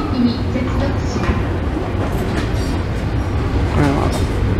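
A Kobe Electric Railway 5000 series four-car semi-express train pulls into Tanigami Station on the Arima Line, its low rumble and rolling rail noise filling the platform steadily and loudly, with faint announcements or voices underneath.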